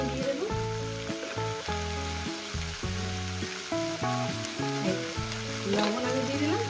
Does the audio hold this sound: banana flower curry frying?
yes